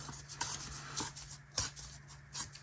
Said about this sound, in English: let me cut this down a little bit